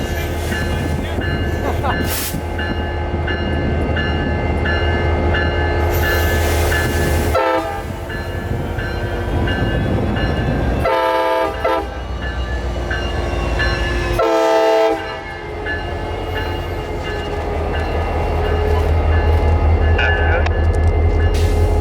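A CSX freight train on Florida's Palmetto Subdivision rumbles past steadily with clattering wagons, its horn blaring in several long blasts over the heavy rolling noise.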